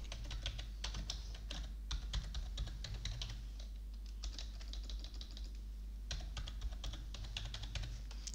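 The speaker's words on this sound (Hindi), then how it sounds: "माधव कंप्यूटर हमने टाइप कर दिया।" Fingers type steadily on a computer keyboard, a quiet, continuous clatter of key presses with short pauses and no voices.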